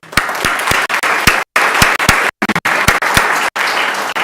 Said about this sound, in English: And can we do one more round of applause for Amy?